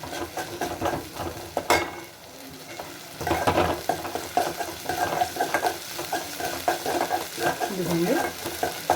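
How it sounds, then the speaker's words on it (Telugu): Ginger garlic paste sizzling in a pan while being stirred, with a soft continuous frying hiss, scraping spoon strokes and a few light metallic clinks, close and moderately quiet. "ఈ అల్లం వెల్లుల్లి పేస్ట్ కూడా బాగా ఫ్రై అయిపోవాలి ఫ్రై అయినంత వరకు అలా ఫ్రై చేసుకోవాలి"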